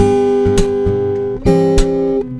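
Two low acoustic guitar chords ring out in the bass, each struck and sustained, with sharp strums marking the changes.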